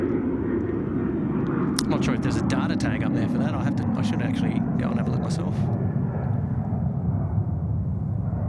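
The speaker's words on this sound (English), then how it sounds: "Boeing business jet getting away there." A Boeing business jet takes off at Sydney Airport, its engines producing a broad, steady roar heard from a distance, while someone talks over the noise throughout.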